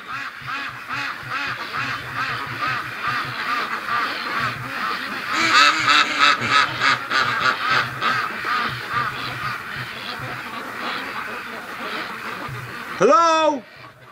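A flock of ducks quacks loudly and continuously at dawn, with a person's voice calling out over them near the end.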